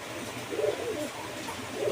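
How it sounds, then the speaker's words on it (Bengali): Racer and Giribaz pigeons in a new breeding cage, with one bird acting aggressively toward another: soft, low cooing swells in a couple of short bursts over a faint background hum. "একটা কবুতর সেই কবুতরের প্রতি আক্রমণাত্মক বিহেভিয়ার দেখাচ্ছে"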